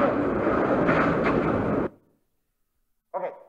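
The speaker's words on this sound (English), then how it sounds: "This is the sound of the windstorm." Recorded windstorm, a loud dense roaring rush of wind that cuts off abruptly after about two seconds, followed by silence and a brief burst of a voice.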